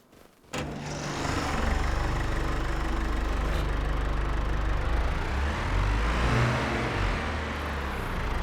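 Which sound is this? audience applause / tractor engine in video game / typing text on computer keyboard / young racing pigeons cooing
tractor engine in video game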